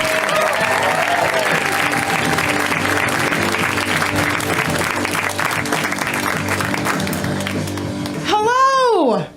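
A comedy club crowd gives sustained applause for comedian Lydia Popovich, loud and continuous, with a voice speaking over it and a brief high warbling tone near the end.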